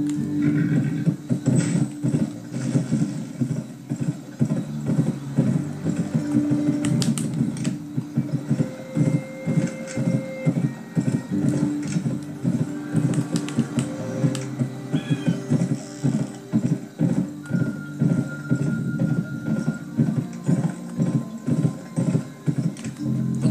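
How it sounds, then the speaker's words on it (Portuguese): Horse hooves clip-clop steadily in the western video game GUN, layered into a busy game soundscape with occasional whinnies. "Vou deixar esse cavalo livre aqui, ó."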